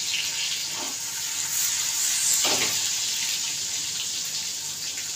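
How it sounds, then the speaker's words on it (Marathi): A tomato fries in oil in a wide cooker, giving a constant loud hiss and crackle with a couple of brief bursts as it is moved around. "चांगलं तेलामध्ये एक टोमॅटो टाकते"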